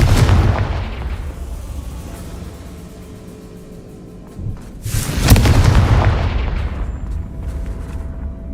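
Confringo fire spell blasts in Hogwarts Legacy: one heavy boom opens, and after a lull a second loud explosive burst rolls out with a long fading rumble, with no talk.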